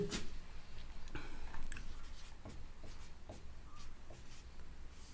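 Chalk or marker scratching across a classroom board during a Hindi alphabet lesson, in several short strokes separated by pauses, moderately close with a faint room hum.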